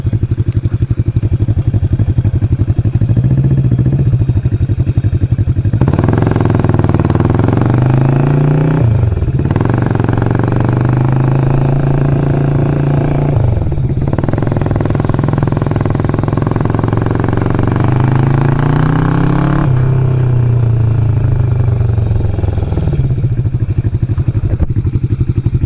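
A freshly revived motorcycle engine runs loudly and steadily throughout, revving up and dropping back several times with a rough, clattering mechanical tone, and no talking is heard.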